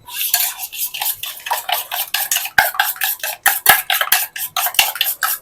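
A spoon clinks and scrapes rapidly against a bowl, mixing sugar into eggs for a caramel pudding cake, in close, rhythmic bursts with no talking.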